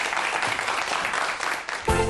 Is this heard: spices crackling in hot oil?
no